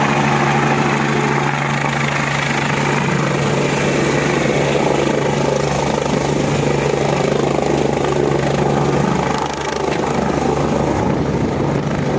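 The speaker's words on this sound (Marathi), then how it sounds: "पालकमंत्री जयकुमार गोरे यांचं हेलिकॉप्टर अचानक सांगोल्याच्या या भूमीत उतरलं" A landing helicopter's loud, steady rotor and engine roar fills the whole stretch, droning continuously up close with no voices.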